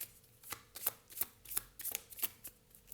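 Tarot cards being shuffled and drawn by hand, a string of crisp riffling flicks and slaps in an uneven rhythm, close and fairly quiet with no talking.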